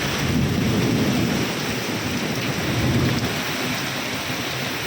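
A thunderstorm with driving rain, a steady loud downpour over which low rumbles of thunder swell and fade, sounding fairly close and filling the whole stretch.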